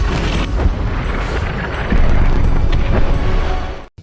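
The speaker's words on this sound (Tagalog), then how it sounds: "pinaputokan ng tangke ang moske" A tank cannon firing on a mosque in a war scene, heard as a loud, dense rumbling blast that swells midway and keeps roaring before cutting off abruptly at the end.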